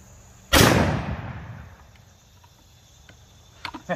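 A single loud, close rifle shot from a 400 Legend firing a 240gr Maximus copper hollow point into a gel block outdoors, with a sharp crack and a decaying boom. Faint insect chirps follow, then a few small clicks near the end.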